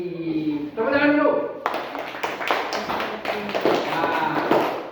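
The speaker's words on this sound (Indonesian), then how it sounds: "Tepuk tangan dulu." A classroom of students claps hands together, a sudden burst of many sharp, dense claps right after a spoken prompt that carries on steadily for several seconds at close range.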